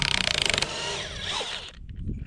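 DeWalt impact wrench backing a lag bolt out of wood, a rapid hammering burst of rattling impacts for about half a second, then the loosened bolt spinning out with a fading metallic whir and light clatter.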